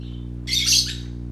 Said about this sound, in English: And then we have our resident, pardon my French, vultures.